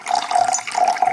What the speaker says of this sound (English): I want to pour water in.